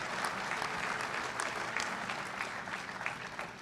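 Gala audience at a conference and event venue breaks into applause and cheering, a dense, continuous crowd clapping of even loudness throughout with no speech over it.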